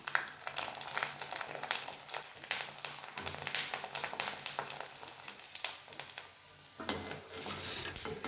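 Urad dal papad fries in hot oil, giving a close, continuous crackling sizzle with dense popping bubbles and occasional stirring.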